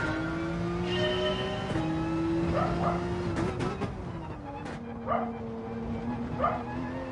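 A small dog yips and barks a few times at moderate distance, layered over a continuous Gran Turismo 7 race car engine drone that shifts pitch now and then.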